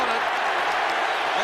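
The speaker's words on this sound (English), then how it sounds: "That brings a loud cheer from the crowd." Football crowd at the 1983 VFL Grand Final between Hawthorn and Essendon roaring in a loud, broad, sustained cheer that fills the whole moment.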